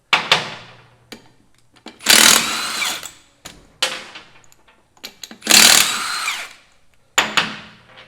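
A power tool works the left-handed lug nuts on a 1951 Willys Jeep in short loud bursts, high whining rattles lasting about a second each, separated by quieter gaps with lighter clicks and mechanical knocks.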